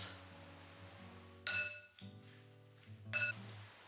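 Two bright glassy clinks ring out over a quiet background, like utensils knocking against a bowl while persimmon salad is stirred and tossed.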